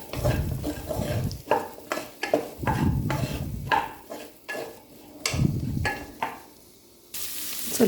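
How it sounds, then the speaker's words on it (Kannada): Sliced onions fry and get stirred in a pan for chicken sukka, with a soft sizzle beneath repeated close scraping and clinking of a spoon against the pan in an irregular rhythm. "ಈರುಳ್ಳಿನ ಒಂಚೂರು ಫ್ರೈ ಮಾಡ್ಕೊಳ್ಳಿ."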